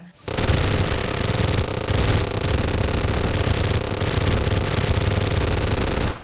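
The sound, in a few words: chain gun rapid firing in a video game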